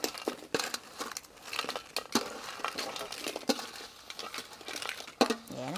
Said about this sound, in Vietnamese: giờ mình cho hết ghẹ vô.